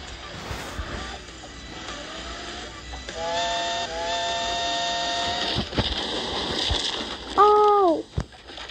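A steam locomotive whistle in the game Turbo Dismount gives several loud, sustained toots, the longest mid-clip and a final short sharp blast, over a quiet mechanical background.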